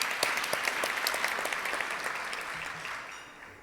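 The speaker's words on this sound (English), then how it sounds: "Let's give Carl a round of applause for sponsoring our meeting today." Applause at a Rotary club meeting for a member sponsoring the day's gathering, a steady round of clapping from a roomful of people that slowly fades.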